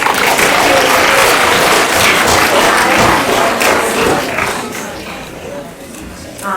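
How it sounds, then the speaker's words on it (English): Loud, sustained applause from the audience at an 8th-grade capstone presentation, dense clapping mixed with crowd noise, holding steady for most of the stretch before easing off toward the end. "let's give her a very big, encouraging round of applause"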